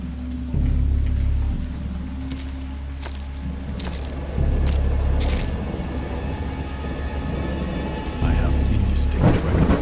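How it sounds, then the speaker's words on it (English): Thunder and steady rain fill a storm scene in the video game Dagon, adapted from H. P. Lovecraft. Several deep rumbles and sharp cracks break over continuous falling rain, with no one speaking. "Distinct recollections of a great storm sometime after I reached the boat"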